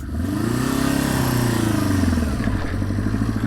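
A 1976 Honda CB500 Four motorcycle engine runs steadily close by, its four-cylinder drone rising and falling slightly as the revs shift, with no talk over it.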